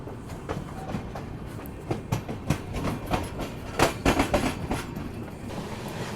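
Danapur Secunderabad Express rolling along the track after departure, with a steady rumble and irregular clicking wheel-on-rail beats from onboard, growing busier and louder midway before easing.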